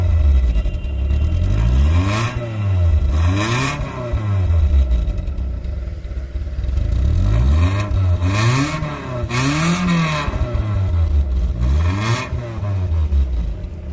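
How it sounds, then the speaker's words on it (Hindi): A 1984 Daihatsu Charade with a 1000cc engine revving repeatedly, loud and close, each blip rising and falling in pitch between idle stretches, with a rattly, throaty small-engine tone. "मैं अब साउंड चेक करवाता हूँ गाड़ी का।"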